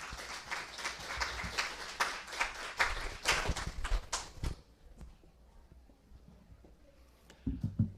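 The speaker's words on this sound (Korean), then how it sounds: "서성일 파트장님께 다 함께 힘찬 박수 부탁드리겠습니다." Audience clapping at a corporate HRD conference in Korea, a loose burst of claps for a speaker coming up that thins out and stops halfway through, leaving near silence with a faint sound at the end.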